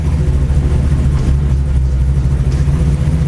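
A car fitted with a sequential shifter driving in first gear: a loud, steady low engine drone that holds an even pitch throughout, heard from inside the car.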